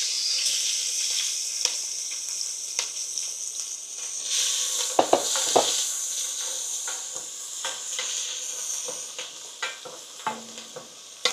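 Onion sizzling steadily in a hot pan, a continuous bright hiss broken by occasional stirring clatters and scrapes, close and fairly loud with no voices.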